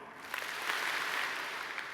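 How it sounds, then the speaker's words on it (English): A conference keynote audience claps on cue in a large hall, a soft, diffuse wash of clapping that sounds distant and thin rather than two crisp unified claps. "If that's you, I want you to clap 2 times."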